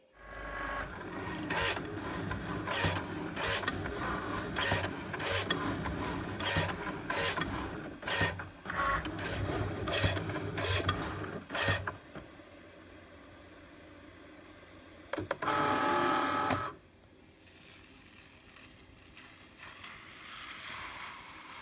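Electronic cutting machine with a rotary blade running through red felt, a steady close mechanical whirring and rasping for about twelve seconds, then quieter motor movement with a brief loud burst near the end.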